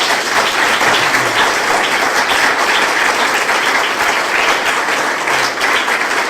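A live interview audience gives a large round of applause, a dense, loud, continuous wash of clapping from many people that holds steady throughout without breaks.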